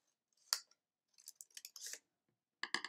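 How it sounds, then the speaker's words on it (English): Scissors snip paper to cut bunny ears for a craft, with several short crisp cuts heard up close and alone: one early snip, a cluster in the middle, and a quick run at the end. "Now you're going to create the bunny's ears by using a pair of scissors."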